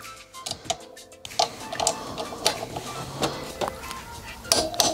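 A torque wrench with stacked socket adapters tightening brake caliper bolts during a tyre change, scattered sharp metallic clicks and ratchet ticks close by, no speech.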